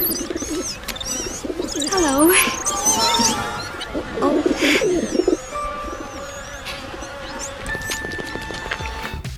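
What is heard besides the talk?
birds cooing in Disney's 1950 animated Cinderella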